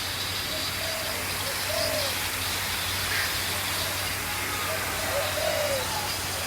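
Birds, likely doves or pigeons, give soft, scattered coos and calls at a theme park, faint against a steady outdoor hiss of water or rain, with no clear speech.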